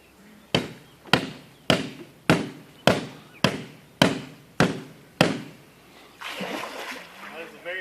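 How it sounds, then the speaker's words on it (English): Nine sharp slaps on water, an alligator call at a gator show in Alabama, land at an even pace, each with a brief splash, followed by a longer sloshing churn. "High-tech alligator call."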